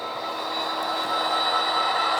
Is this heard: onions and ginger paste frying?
no